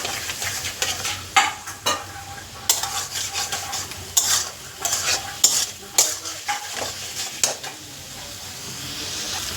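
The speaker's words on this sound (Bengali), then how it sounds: "মশলা খুব ভালো করে কষানো হয়ে গেছে" Mustard paste and spice paste sautéing in a pan for a Bengali hilsa curry with taro, potato and eggplant, a steady sizzle broken by repeated spatula scrapes and metal clinks against the pan, close and fairly loud.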